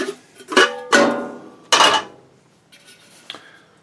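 A steel coffee can for a hobo stove clanks and rattles up close in a few sharp metallic knocks, then two fainter taps.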